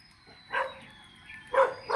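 A dog behind a fence on an early-morning neighborhood street in the Philippines barks at a passerby, giving one bark, a pause, then two more in quick succession, moderately near over faint background hum.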